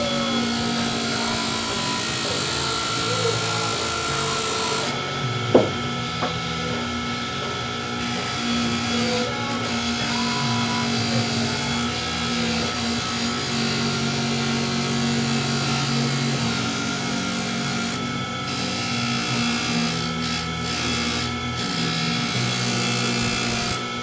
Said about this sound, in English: So I'm going to polish it up using this here polishing wheel.